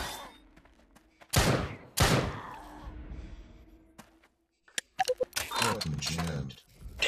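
Gunfire cracks in a zombie shooter game: two sharp, loud shots about half a second apart, quiet game ambience, then a dense cluster of rapid shots and impacts near the end, with voices mixed in.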